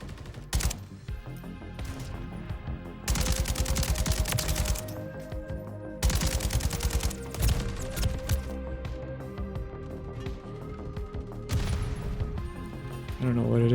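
Rapid automatic bursts from a Kastov 762 rifle in Modern Warfare III come in several long, loud volleys separated by short pauses, with someone talking over the gunfire.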